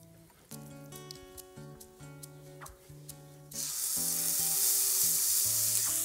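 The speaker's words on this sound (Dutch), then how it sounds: "Eerst op de velkant in de pan, zodanig dat het vet kan smelten dat je de eend goed kan bakken." A duck breast fillet, seasoned with salt and pepper, is laid skin side down in a pan without added fat. A steady hissing sizzle bursts up halfway through and continues, following a stretch of music with beats.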